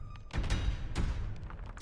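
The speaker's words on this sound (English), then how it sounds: "The entire cavern shakes with the sound of rockfall." Deep rumbling thuds and crashes of rockfall in a mine cavern in the game Scarlet Hollow come in two heavy bursts over a low background, with no voices.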